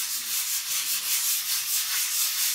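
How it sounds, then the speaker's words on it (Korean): Sandpaper scrubs back and forth across a painted surface in quick, steady strokes, smoothing it for magnetic chalkboard paint, a close, rhythmic rasping with no talking. "매끈한 표면을 만들기 위해 사포로 곱게 갈아줍니다."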